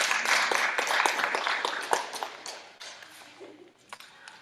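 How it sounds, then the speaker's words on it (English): A church congregation at its fall meeting bursts into dense applause, which stays full for a couple of seconds and then thins to a few scattered claps as it fades out. "Let's give them a round of applause"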